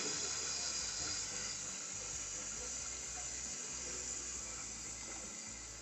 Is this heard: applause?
no